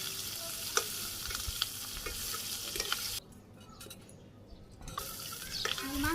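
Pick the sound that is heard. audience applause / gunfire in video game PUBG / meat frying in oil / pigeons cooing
meat frying in oil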